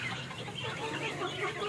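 Native backyard chickens clucking in a short burst, several soft overlapping clucks and chirps close by over a faint farmyard background, no talk.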